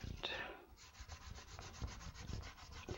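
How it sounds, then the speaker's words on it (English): A die-cut paper card is rubbed from the back by hand, producing a quiet, steady scratchy rubbing with rapid repeated strokes close up and no talk. "give it a quick rub from the back"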